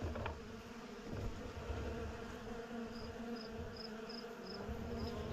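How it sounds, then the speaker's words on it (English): Bees fight at a hive entrance, their dense, close buzzing holding steady throughout with no talk. "Bees going at it."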